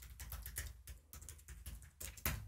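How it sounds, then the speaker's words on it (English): A password typed on a computer keyboard, quick uneven bursts of close key clicks with brief pauses and a firmer final keystroke, no voices. "Okay, I have to type it again for verification."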